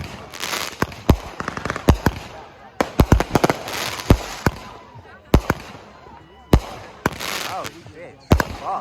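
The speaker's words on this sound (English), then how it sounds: "About to put these things up and enjoy our fireworks show" Close, loud Fourth of July fireworks set off at home, with irregular sharp bangs and firecracker pops, some in quick bursts and others spaced apart.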